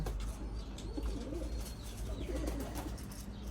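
Pigeons coo repeatedly in low, throaty bursts close by, with a steady background murmur and no talking.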